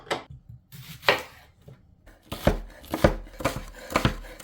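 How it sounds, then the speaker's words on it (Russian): Two large onions being diced into cubes with a knife on a cutting board, giving crisp, close chopping strikes in irregular bursts, several quick cuts coming in clusters. "2 крупных луковицы нарезаем кубиками"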